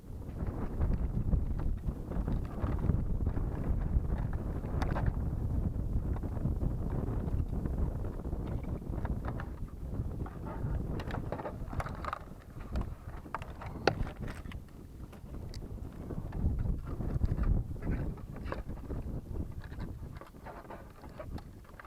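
Gusty wind roars steadily across the microphone at an outdoor flight of a 3D-printed model Spitfire, a broad low rumble that rises and falls throughout with no speech.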